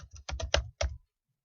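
A computer keyboard being typed on in a quick burst of about half a dozen crisp, close keystrokes, followed by silence.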